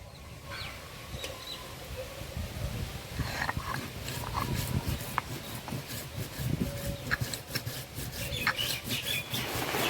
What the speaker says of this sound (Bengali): প্রথমে বাটবো জিরে